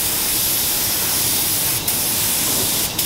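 A spray gun paints a Mercedes-Benz G400d during restoration, giving a loud, continuous broadband hiss with two short breaks where the trigger releases.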